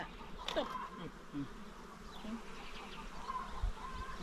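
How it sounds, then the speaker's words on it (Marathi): Honey bees buzz faintly around at a bee farm in Albania, a soft droning hum drifting near and away against quiet outdoor background noise. "माशी आ रही मेरे पास"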